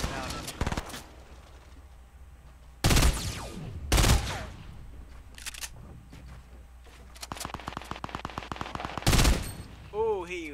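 Gunfire in the Fortnite video game, several loud separate shots and short bursts spread across the stretch, with a rapid run of repeated shots near the end and quieter game sounds between.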